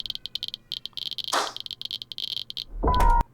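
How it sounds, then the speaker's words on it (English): Geiger counter clicking in Kojima's "OD" trailer: rapid, irregular bursts of sharp high clicks, close and dry, broken by a brief whooshing swell and ending with a louder low rumble and tone. "a lot of people were saying the name of that sound is from a Geiger counter"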